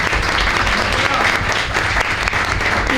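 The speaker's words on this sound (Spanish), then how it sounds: "un aplauso también, aquí los pedimos antes por si acaso" Applause from a congress audience at a business planning and organization panel, dense steady clapping filling the room for a few seconds.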